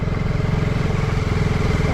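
A motorcycle on a Konkan bike ride toward a hillside house idles and putters close by with a steady, even engine rhythm throughout.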